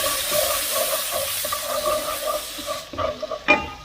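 Garlic frying in a pan over lowered heat gives a steady sizzle, then a few clattering stirs near the end.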